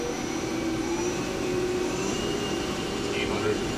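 Hyundai-WIA L400C CNC turning center spindle running in high range after a gear change, a steady whirring drone with faint shifting tones, constant and moderately loud throughout.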